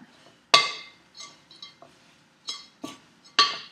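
Granola ingredients are stirred in a glass bowl, producing a handful of sharp glassy clinks and taps from a utensil against the bowl, separated by short quiet gaps.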